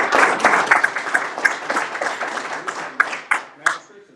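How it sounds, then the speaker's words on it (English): A crowd at a county fiscal court meeting applauds steadily, dense clapping filling the space, thinning out toward the end with a few last scattered claps. "Let's give them all one more round of applause"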